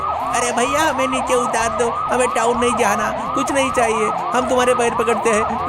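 A police siren sound effect in a Hindi audio story wails in a fast, repeating rising-and-falling pattern, loud and continuous, while frightened voices plead over it.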